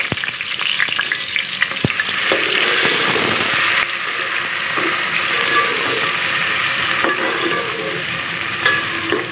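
Sliced onions and green chillies frying with salt in a pan for aloo palak, a loud steady sizzle with frequent scraping stirs close by.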